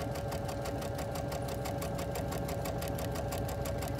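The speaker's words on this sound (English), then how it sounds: "So I have just sewn a quarter inch from the center." A sewing machine running steadily while stitching a quarter inch seam, with a fast even mechanical whir and rhythmic needle clatter up close.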